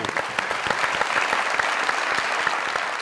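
Studio audience applause on a Pakistani comedy talk show, dense and steady clapping filling the whole stretch at close range.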